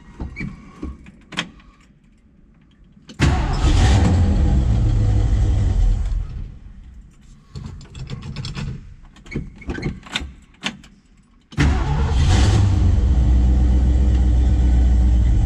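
A 1965 Ford Mustang GT Fastback engine warms up, with two long bursts of loud, deep rumbling revs separated by a quieter stretch of lighter clicks and knocks.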